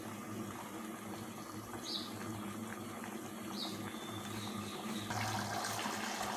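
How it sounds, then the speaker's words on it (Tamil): Kurma curry bubbling steadily in a pot on the stove, a continuous dense simmer with soft popping bubbles, close and even throughout with no talk. "இது ஃபுல்லாக நல்லா கொதித்ததுக்கப்புறம் எப்படி இருக்குன்னு பார்க்கலாம்."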